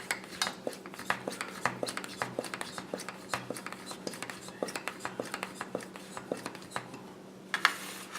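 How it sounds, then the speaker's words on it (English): An MSR Whisperlite liquid fuel stove's half-full fuel bottle is pumped by hand in a steady run of about a dozen or more crisp, evenly spaced plunger clicks, close and clear, with a faint voice in the background. "when I'm running about half full, I give it about 12 pumps"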